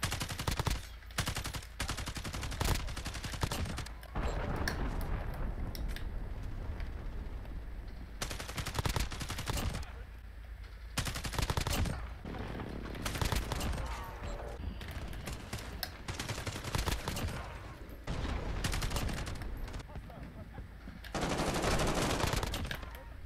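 Rapid automatic gunfire from a Gremlin AUG rifle in Call of Duty Modern Warfare, loud close bursts of varying length separated by short pauses, repeating across the whole stretch.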